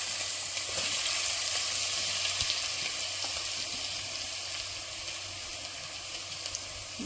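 Sliced ingredients and curry leaves sputter in hot oil for a Kerala-style mutton curry, a steady close hiss with small pops and occasional stirring, and no voices.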